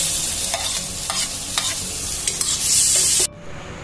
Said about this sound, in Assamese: মই এই পাস্তাখিনি দি দিম